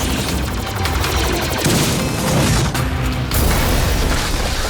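Rapid gunfire rattles loud and nearly continuous through a battle scene in an animated Max Steel episode, with booms and mechanical clatter layered into a dense, unbroken wall of noise.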